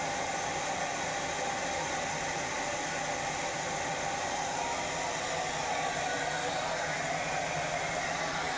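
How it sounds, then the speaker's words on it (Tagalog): A hair dryer blows a steady, unbroken airy roar while drying hair, constant in level and fairly close throughout, with no voices. "Pagkatapos ibo-blower natin yan para matuyo na siya at manatili ng ganyan ang buhok."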